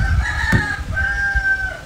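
A chicken, heard as a rooster, clucks and crows loudly and close by in one brief burst, with no voices.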